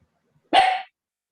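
A single loud, close dog bark, one sharp burst lasting about a third of a second, with silence before and after.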